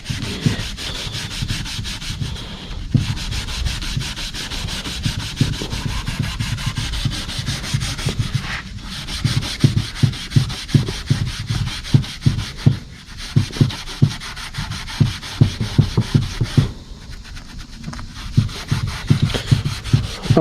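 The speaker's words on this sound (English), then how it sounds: "No, just scrub it like you sanding it." Hand scrubbing overspray off the Kandy Brandywine paint of a 1976 Monte Carlo, a steady, close rasping rub in quick back-and-forth strokes, like sanding, with brief pauses between passes and no talk.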